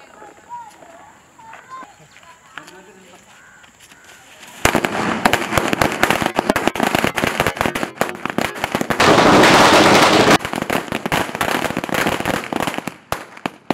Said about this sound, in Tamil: 300 வாலா வந்து வெடிச்சிடலாம்